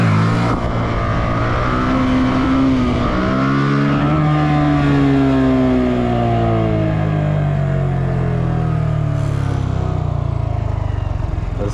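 A motorcycle engine revs loud and close, rising and falling in pitch as the throttle and clutch are worked in a parking lot, with a steady roar throughout.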